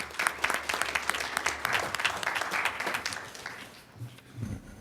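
Audience applause at a public board meeting, a round of distinct claps that is brisk and fairly close, then fades out with a low voice entering at the end.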